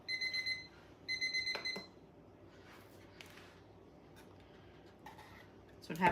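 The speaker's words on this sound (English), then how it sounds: "Oh, my timer's going off." A kitchen timer goes off while a pie is being prepared, giving two short bursts of rapid high electronic beeping, followed by quiet kitchen handling noises and a soft clatter at the end.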